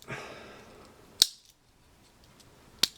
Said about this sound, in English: Try to use the scissors for that.